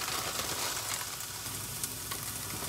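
A ham and egg omelette fries in a pan, giving a dense, continuous close-up sizzle that holds steady for a couple of seconds with no voice over it.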